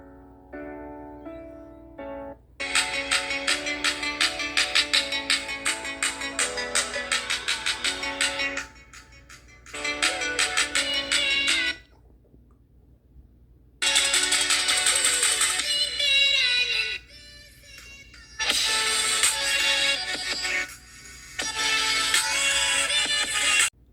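A Samsung Galaxy A15 5G phone plays a music sample through its loudspeaker, loud bursts of bright melodic sound separated by short pauses, with no talking.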